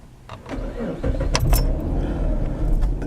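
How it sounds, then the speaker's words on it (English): A car's engine is started by turning the ignition key, with a brief key jangle and cranking that settles into a steady, close engine idle with some background noise. "Just turn the key like that and release it as soon as the vehicle starts."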